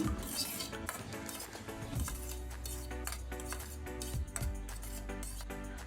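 A spoon clinks repeatedly against a bowl while soy sauce and lemon juice are mixed together, steady close metallic taps running throughout.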